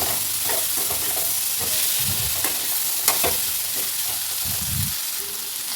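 Ginger garlic paste is stirred into masale bhat in a pan over a loud, steady sizzle and hiss, with soft scraping strokes of the spoon and an occasional light clink.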